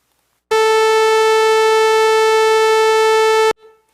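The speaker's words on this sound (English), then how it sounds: "this is the sawtooth wave" A steady, bright, buzzy sawtooth tone at 440 hertz sounds for about three seconds, loud and rich in harmonics, then cuts off abruptly.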